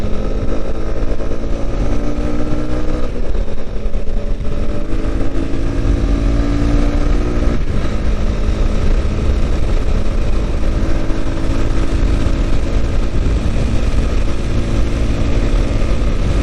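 A steady, loud Honda CB250R motorcycle engine drones throughout while riding over the Rainbow Bridge in Tokyo, with shifting engine tones and constant road and wind rumble, no voices.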